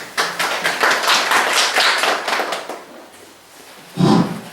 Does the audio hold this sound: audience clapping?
yes